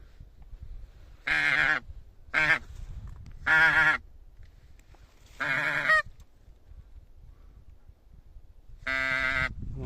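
Geese honk in flight high overhead and far off during a May hunt, calling in five separate bursts of nasal, harmonic honks, some long and some short, over a low rumbling background with no talk.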